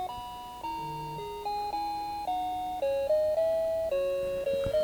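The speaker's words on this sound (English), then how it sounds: "The app on my phone is ringing." A repeating electronic ringtone of a door entry call on a smartphone app plays alone, a looping melody of clear synthetic tones stepping up and down in steady, even rhythm.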